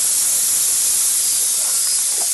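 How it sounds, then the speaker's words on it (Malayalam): Water boiling in a pot on a home kitchen stove gives a loud, steady steam-like hiss and bubbling roar that holds unbroken for the whole moment, with no voices. "ഇതാ നമ്മുടെ വെള്ളം തിളച്ചിട്ടുണ്ട്"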